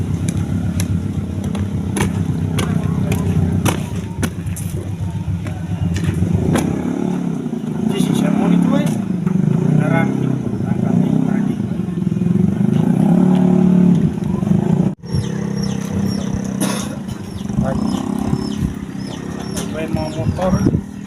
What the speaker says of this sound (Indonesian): Motor